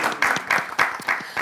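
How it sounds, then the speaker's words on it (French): A studio audience at a live television show applauds in short rhythmic bursts of loud clapping, close and lively, with a host's voice faintly present. "applaudissez pour moi s'il vous plaît"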